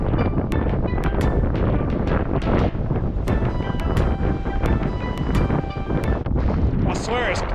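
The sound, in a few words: strong wind at the beach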